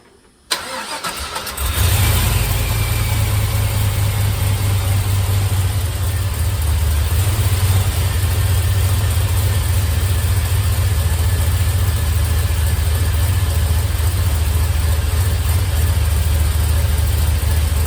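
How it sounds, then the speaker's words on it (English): A 1951 Buick engine cranks after a brief quiet moment, catches and settles into a loud, steady idle that rumbles on without pause, recorded close by. "I'm going to try to run it long enough to get the thermostat open"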